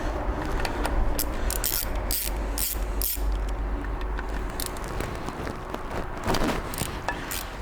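A wrench works the bolts on a Toyota Hilux rear brake wheel cylinder, 8mm bolts at the back. It gives a continuous close mechanical ratcheting with rapid clicks and a gritty metallic texture, steady throughout.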